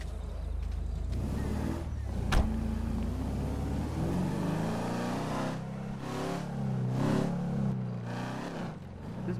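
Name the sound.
car engine revving and growling in GTA 5 Online video game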